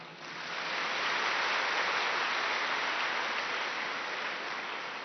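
A large audience at a Rajyoga dharna class led by Dadi Janki, heard as a dense, continuous wash of applause that swells quickly, holds steady and loud, then tapers slightly.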